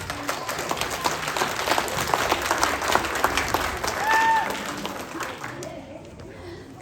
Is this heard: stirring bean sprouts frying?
no